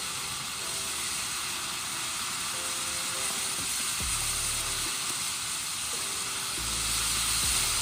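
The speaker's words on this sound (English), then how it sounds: "Very nice effects on this one and an awesome fountain." A TNT Fireworks Safe & Sane fountain hisses in a steady, loud broadband rush, with brief low rumbles and pops mixed in, heard continuously with no talk.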